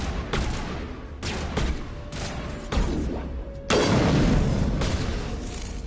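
Weapon fire and booming impacts in Mass Effect Legendary Edition on PS5, a series of heavy spaced shots with one sustained rumbling blast, loud and close with echoing tails.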